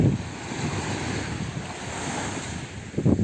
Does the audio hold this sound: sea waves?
yes